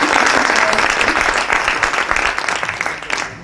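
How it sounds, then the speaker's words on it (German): Audience applause after a talk, loud and dense clapping filling the whole stretch with a brief swell at the end, with some voices mixed in. "einen Applaus noch."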